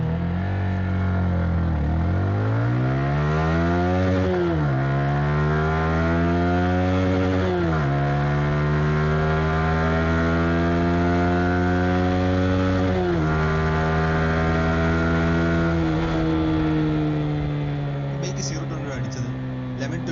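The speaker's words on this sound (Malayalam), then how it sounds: "നമുക്ക് ഈ ബൈക്കിൻ്റെ 0 to 100 പെർഫോമൻസ് ടെസ്റ്റ് ചെയ്ത് നോക്കാം." A Yamaha XSR 155 motorcycle with a 155cc variable-valve engine runs through a 0 to 100 acceleration test, its loud engine climbing in pitch through several gears with brief dips at each shift, close and continuous for twenty seconds.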